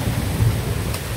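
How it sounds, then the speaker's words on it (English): Hail falls in a storm in Ottawa onto a front patio as a steady, dense, close roar of pelting, with no pauses. "Oh, there's some chunks of hail right there."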